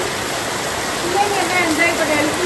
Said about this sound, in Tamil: இந்த மழையை நான் எக்ஸ்பெக்ட் பண்ணவே இல்லை